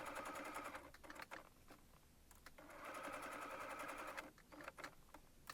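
A sewing machine stitches fabric for a Christmas gift bag, running in steady bursts with brief pauses between them. It is fairly close, and no one talks.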